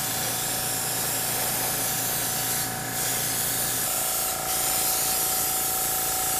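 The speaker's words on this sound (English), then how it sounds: "like any kind of spray painting, it's better to do it in a couple of coats and let it dry in between" An airbrush sprays coats of colour onto a decorated cake, giving a continuous close hiss with a steady mechanical hum beneath it and two brief pauses, with no talking.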